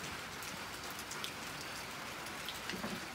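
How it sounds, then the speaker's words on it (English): Rain falls steadily outdoors near a front porch, a constant soft hiss with scattered drop patter, fairly quiet and even with no voices. "Be raining, y'all."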